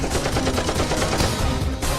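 Rapid gunfire from a video game, dense and continuous like machine-gun bursts, loud and sustained throughout with no talk over it.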